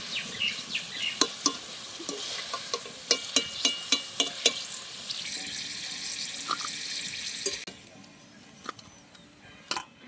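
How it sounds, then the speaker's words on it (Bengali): Carrot and papaya pieces fry together in a pan, a bright steady sizzle carrying a rapid run of spatula taps and scrapes that thin out before the hiss drops away near the end. "আমি ভিডিওটা বড় করবো না বলে একসাথে দু রকমের সবজিগুলো ভেজে নিচ্ছি"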